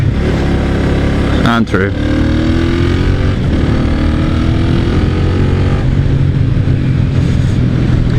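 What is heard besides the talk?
1996 Honda Magna 250cc motorcycle riding and accelerating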